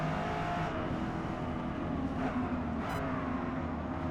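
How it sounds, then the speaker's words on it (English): A 2024 Corvette E-Ray C8 with a 6.2 V8 hybrid powertrain drones steadily at speed in Forza Motorsport 8 on the Nürburgring GP circuit, holding a dense, constant engine roar. "First impressions of the Corvette E-Ray. The shifts are very aggressive."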